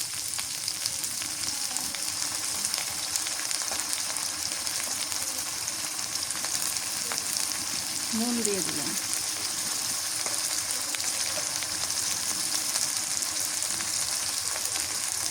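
Garlic and onion paste fries in a pan with a steady, moderate sizzle that persists throughout, with a brief voice or squeak midway.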